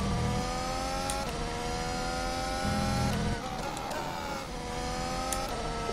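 A Pierre Gasly AlphaTauri Formula 1 car in rFactor 2 screams through a lap, its high engine note rising through gears with brief shifts and downshifts, loud and continuous without talk.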